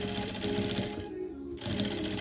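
A sewing machine runs fast stitching the inside leg seams of patchwork pants, a rapid even mechanical rattle that pauses briefly midway and then resumes, fairly quiet and close.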